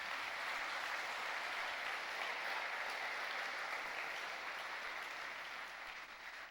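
Sustained, dense applause from a church congregation praising the Lord during a sermon, steady and loud throughout with no break.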